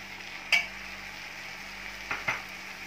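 Chopped fenugreek being stirred into frying masala with peas, potatoes and tomato for matar methi pulao, a quiet steady sizzle broken by a few brief clinks of a spoon against the pan.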